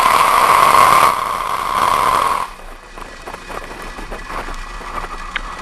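A SpaceX rocket at liftoff carrying a remote-sensing satellite built by Airbus for the German military, heard as a loud, steady broadband roar that holds for over two seconds and then drops abruptly to a fainter, rumbling wash.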